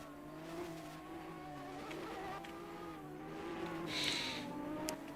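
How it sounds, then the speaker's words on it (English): A race car spinning out on the front stretch of a Group C showcase race, engine droning steadily with a brief rising tire screech near the end, a continuous mid-distance roar with no voices. "As Twin is spun out on the front stretch, but he'll get back going."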